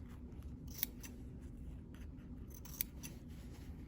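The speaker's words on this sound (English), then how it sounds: "I think I can go ahead and cut a little bit of this off" Scissors snip through fabric while a bodice front is being trimmed, two crisp close cuts about two seconds apart over a quiet rustling background, with no talking.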